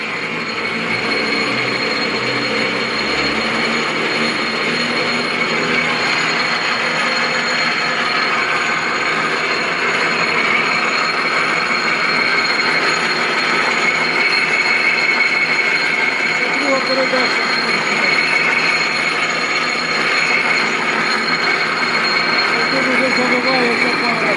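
YuMZ-6 tractor rear axle run without oil at raised revs, a continuous clattering, ratcheting gear noise with metallic whine, steady and fairly loud throughout, with faint talk at times.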